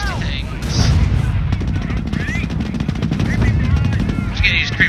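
Creeping artillery barrage in Company of Heroes, a WWII strategy game, with dense rapid gunfire and booming impacts rolling continuously under battle noise, loud and close, with faint voices mixed in.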